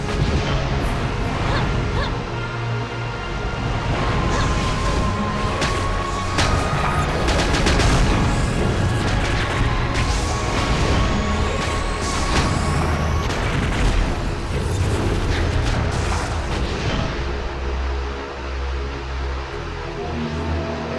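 Wizard skill blasts burst in the Cabal Mobile game's Lava Hell Fire Dungeon, a dense run of booming, crashing impacts layered over continuous loud game effects and music for about seventeen seconds before easing off.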